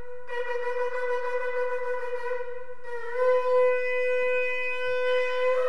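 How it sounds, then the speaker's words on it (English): A ram's horn shofar sounds two long, brassy, steady blasts with a short break between, loud and close in a church service setting, with no talking over it. "That is the sound of the shofar, the ram's horn."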